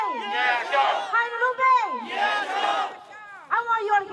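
A protest crowd demanding justice for a man shot by St. Paul police roars and shouts in loud, sustained bursts, with voices rising together in waves and brief dips between them.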